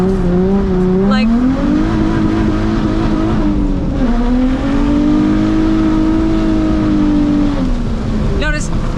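A drift car's engine revs hard and close, its pitch climbing and falling through gear changes, with short tire squeals near the start and end. Someone talks over it.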